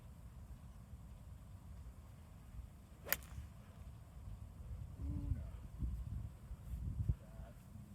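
A golf driving iron striking a ball on a badly mishit toe hook swing outdoors on a course, a single sharp crack partway through over faint wind and low background rumble, followed by brief quiet voices.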